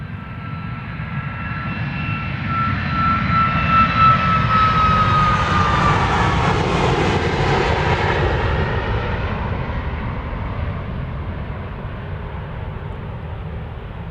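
A Southwest Boeing 737 MAX 8 jet bound for Denver takes off at Dallas Love Field, heard from the airport's observation area. A loud, continuous engine roar swells and holds, with a thin high whine drifting across it.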